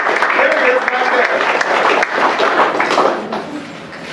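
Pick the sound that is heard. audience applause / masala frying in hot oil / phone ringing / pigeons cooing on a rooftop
audience applause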